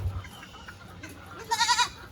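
A farm goat gives one loud, wavering bleat near the end, after quieter outdoor background sounds.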